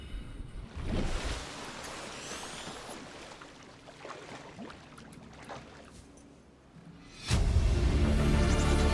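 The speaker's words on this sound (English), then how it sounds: "Can we just jump in the water?" In the video game Subnautica, the player character jumps into the sea. Waves and water wash for several seconds, then a loud, dense underwater rush takes over.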